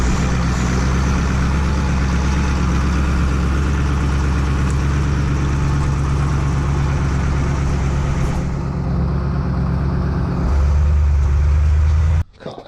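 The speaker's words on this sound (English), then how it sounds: "Motor sounds sweet." Heavy engine of an M33 prime mover, converted from an M3A3 Grant tank, runs steadily and loud up close with a deep rumbling idle, shifting tone near the end before cutting off abruptly.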